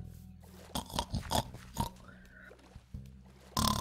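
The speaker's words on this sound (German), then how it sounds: "Ein Schweinchen." A pig oinking in the video game Minecraft, a few short grunting snorts in quick succession, fairly faint and close, with a couple of brief clicks around them.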